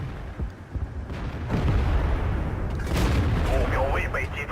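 A tank cannon fires during a World of Tanks battle on the Kharkov map, heavy booming shots and rumbling engine noise filling the scene while someone talks over the action.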